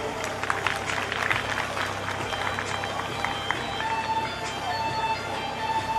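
An audience at a school annual function applauds a fancy dress prize winner. Many hands clap in a busy, uneven patter, with crowd murmur mixed in underneath, at moderate loudness throughout.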